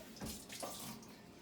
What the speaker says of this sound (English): we're going to rinse our pot out first